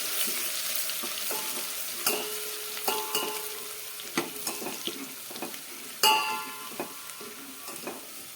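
Cumin and garlic fry in a pan with a low, steady sizzle while a spoon scrapes and clinks against the metal, giving repeated sharp stirring strokes up close.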